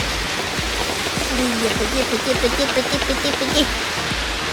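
A rain-swollen valley stream rushes in a steady broadband roar during heavy monsoon rain, close and continuous, with a person speaking over the water noise.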